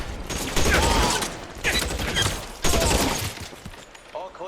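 Rapid automatic gunfire from a firefight in the video game L.A. Noire comes in three dense bursts, loud and close, with game voices talking over and between the shots.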